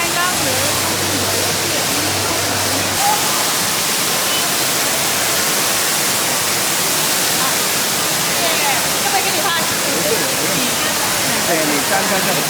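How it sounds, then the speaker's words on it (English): An indoor waterfall in the middle of a Bangkok shopping mall pours in a steady, full rushing roar that stays constant, with faint talk from people nearby at the start. "It's the waterfall, like in the middle of the mall."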